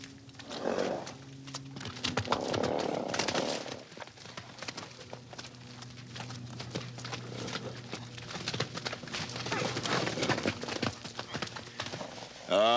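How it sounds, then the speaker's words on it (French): A horse walks along with a steady clip-clop of hooves, the footfalls fairly close and moderately loud while a person talks over them intermittently. "c'est beau de voir marcher ça, un cheval"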